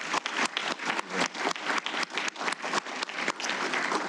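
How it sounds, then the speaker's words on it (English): Audience applause at a Navy retirement ceremony for a command master chief, a steady, full round of clapping from a sizable crowd lasting several seconds, loud and close with no talk over it. "I want to start out with a second round of applause just right up front"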